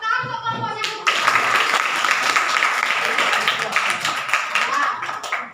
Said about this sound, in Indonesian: tepuk tangan untuk kelompoknya Gomitra